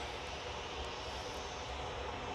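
An aircraft departing at Manchester Airport gives a steady, unbroken engine roar, moderately distant and without voices, lasting the whole short stretch.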